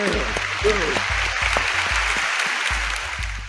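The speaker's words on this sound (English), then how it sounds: "let me give him some applause for that" Applause for a podcast guest, dense clapping that runs on steadily throughout under continuous talk from the hosts.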